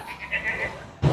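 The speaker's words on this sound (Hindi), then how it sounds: "ये कोटा ब्रीड का बकरा है" A Kota breed goat bleating on a goat farm, one short wavering nasal call heard close, followed by a brief low thump at the end.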